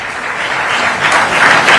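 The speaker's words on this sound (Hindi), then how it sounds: "जोरदार तालियों से उनका अभिनंदन करें" A crowd at a religious gathering of Hindu saints claps loudly and continuously in a brief burst of welcoming applause, dense and close.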